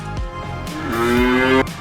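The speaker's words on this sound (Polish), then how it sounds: "Spotkaliśmy kosmiczną krowę." A cartoon cow gives one long, loud, rising moo, over a bouncy backing music track in a children's space-ranch game.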